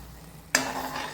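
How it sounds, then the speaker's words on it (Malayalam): A spoon abruptly starts stirring banana kalan, a Kerala curry of banana with ground coconut paste, in a pot. It makes a soft, wet scraping swirl that runs on after a quiet start, with no voices. "ഇനി നല്ലോണം മിക്സ് ചെയ്യാം"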